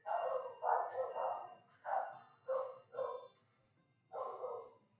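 Dogs bark repeatedly in clustered bursts with short pauses, fairly distant and muffled indoors, with no talking.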